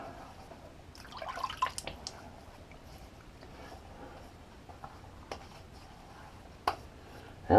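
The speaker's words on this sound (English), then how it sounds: "So I'm just going to wet the face." Water splashed onto the face before a wet shave, heard as a few soft splashes and drips close by, with scattered faint droplets trickling in a quiet room.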